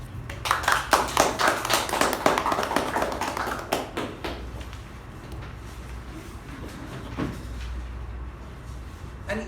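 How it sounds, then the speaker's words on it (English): Audience applause at a club meeting, a few seconds of scattered, fairly close hand claps from a small group that thin out into a quiet room hum with a few last claps. "Let's welcome with a huge round of applause DTM Udanka."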